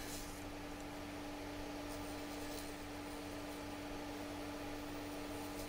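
A wood lathe turns a walnut bowl with resin-filled cracks while a negative rake tip scrapes resin off the sides, a steady close whirring hiss with a constant motor hum and no breaks.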